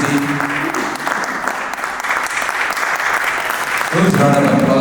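Sustained crowd applause for a speaker at a world peace delegation event, dense clapping throughout that swells louder near the end, with a voice speaking over it.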